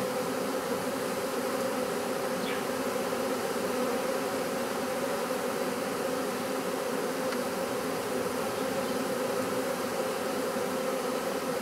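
A honey bee swarm being captured outdoors makes a dense, steady buzzing that fills the scene continuously, with no voices over it.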